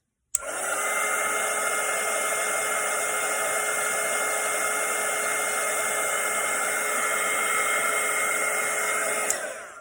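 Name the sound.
hair dryer drying a watercolour painting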